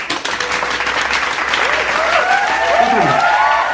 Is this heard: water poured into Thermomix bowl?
no